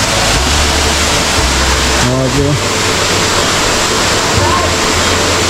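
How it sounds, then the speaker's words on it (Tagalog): A waterfall roaring right in front of the listener in the mountains of Tiwi, Albay, a loud, continuous rushing wash of falling water, with a person briefly speaking over it. "Dito tayo sa may mismong harap ng falls"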